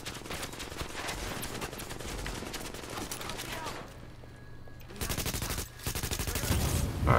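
Automatic gunfire in the shooter game The Division, with rapid bursts of shots that keep up throughout and grow louder near the end, while a player talks over part of it.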